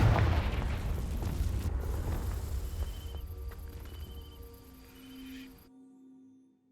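Confringo blasting spell igniting dry vines in Hogwarts Legacy, a single heavy booming burst up front that rumbles and fades into a crackling, tonal magical decay before cutting to silence.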